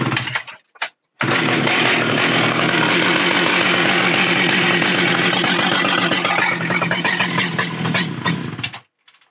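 A chainsaw engine catches after a recoil start and runs steadily at a loud, close idle with a dense buzzing drone, then cuts off near the end.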